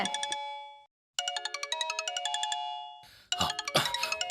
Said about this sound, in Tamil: ஏங்க, உங்க போன் அடிச்சிட்டு இருக்கு பாருங்க